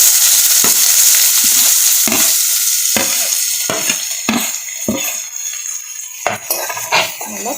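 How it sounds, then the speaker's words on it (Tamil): Chopped onions sautéing in hot oil for mushroom masala, a loud steady sizzle with repeated scraping stirs and metal clinks of a spatula against the pan, close up with no voices. "நல்லா பொன்னிறமாக வர வரைக்கும் நல்லா வணக்கிக்கணும்"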